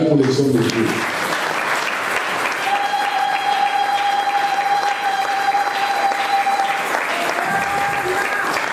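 An audience at a French-language church gathering applauds with steady clapping and a sustained tone behind it, loud and continuous throughout.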